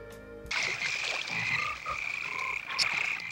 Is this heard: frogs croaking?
yes